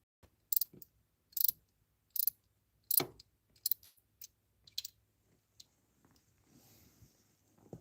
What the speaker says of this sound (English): Then we'll go through with the torque wrench more.